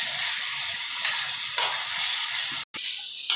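Tomato paste fries in oil with ginger, garlic and onion in a pan, a bright steady sizzle broken by a few stirring scrapes and one brief pause, close and alone.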